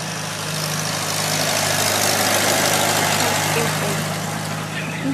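A tractor engine idles nearby in a loud, steady rumbling drone that swells slightly and then settles, with people talking over it.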